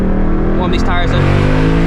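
A 2024 Ford Mustang GT running E85 fuel revs hard to warm its tires, a loud, dense engine roar with rising pitch sweeps, heard close, with a voice under the noise.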